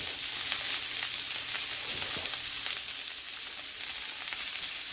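Burgers sear in a hot pan with a steady, bright sizzle that holds at an even level, close by and with no talk.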